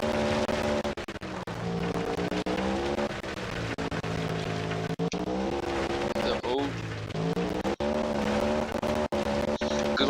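Engine of the Cosmo Street, a Toyota AE86-style car in a racing video game, revving steadily with shifting pitch through gear changes, loud and continuous with brief cuts, under game music or talk.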